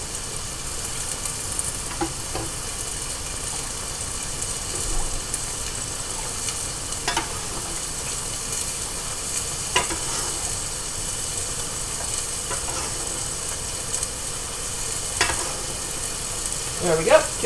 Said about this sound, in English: you're going to hear this sizzling and steaming.